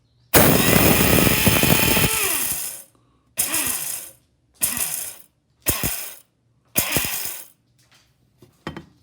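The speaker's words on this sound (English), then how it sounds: "Now I'm going to use the spice grinder, which is a coffee grinder, to grind up 3 tablespoons of mustard seeds." A coffee grinder used as a spice grinder whirs loudly as it grinds three tablespoons of mustard seeds, first in one long burst, then in four shorter pulses separated by silence.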